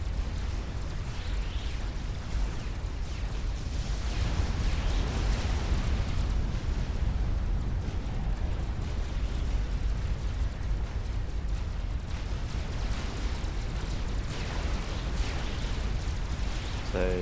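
Artillery shells burst in the real-time strategy game Supreme Commander, their booms running together into a dense, continuous rumbling roar while voices talk over it.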